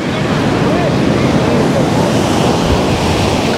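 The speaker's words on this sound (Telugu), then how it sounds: "నీళ్ళు మీదకి వచ్చేస్తున్నాయి, ఒడ్డు అనేది లేదు ఇక్కడ ఎక్కువ" Ocean surf at Coco Beach, Dar es Salaam, Tanzania, where water runs high up a shore with little beach, roaring loud and continuous in a dense wash with wind buffeting the microphone.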